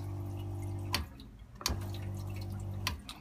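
Water runs from a pump-fed sink in a 1988 Palomino tent trailer, drawn from a water barrel: a low pump hum with short bursts of flow broken by sharp clicks as it starts and stops, close and fairly quiet.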